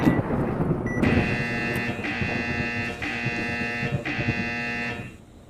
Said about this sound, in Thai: มันคือฟ้าผ่าหรือเปล่าใช่ คือฟ้าผ่า